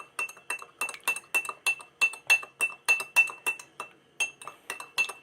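A spoon stirring a honey and juice mixture in a glass, producing rapid, rhythmic clinks against the glass, about two per second, bright and close with a short pause midway.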